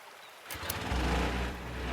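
In a gold mining video game, a water tank starts filling: a rushing, hissing water flow starts up after a couple of mechanical clicks and continues steadily, growing into a loud low roar.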